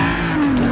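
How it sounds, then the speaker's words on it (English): Car engine in the TrackMania 2 Canyon racing game drones loudly and steadily, its pitch rising slightly as it revs over a brief moment. "We'll take a car out onto the track"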